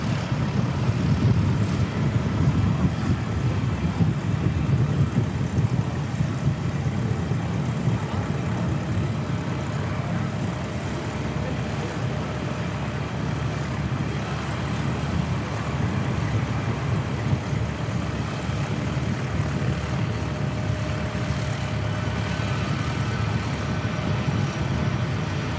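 Boeing C-17A military transport aircraft at Christchurch Airport, a continuous low engine roar and rumble at steady loudness that holds throughout with no gaps.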